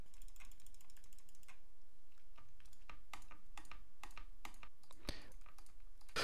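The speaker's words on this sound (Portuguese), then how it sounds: "Esse aqui é o teclado da Dell" Typing on a Dell keyboard with its keycaps removed during a Minecraft game, a rapid, irregular run of sharp clicks and rattly key strikes, close and clear, with no voices.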